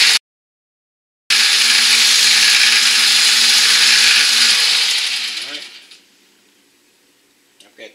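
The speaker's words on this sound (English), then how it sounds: "Got this sharpened about as much as I want to sharpen it" A Black ADA ripper blade is ground on a powered sharpener, giving a loud, steady high grinding whine that starts abruptly after a brief silence and then winds down and fades out, with a couple of small clicks afterward.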